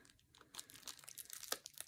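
Crinkly packaging around tektite crystals such as moldavite and Libyan desert glass being pulled open by hand, giving a quiet, continuous rustle with sharper crackles, loudest near the end.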